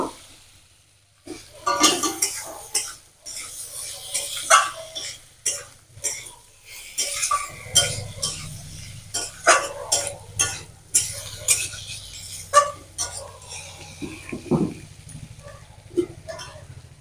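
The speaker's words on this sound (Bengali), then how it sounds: "এবার মশলার সঙ্গে ভালো করে মিশিয়ে নেব।" Fried pointed gourd is stirred into an oily spice masala in a pan, with rhythmic scraping and clinking strokes of a spoon roughly every second over a faint low hum, close and fairly quiet.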